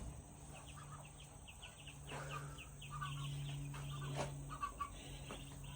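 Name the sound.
chickens clucking in a coop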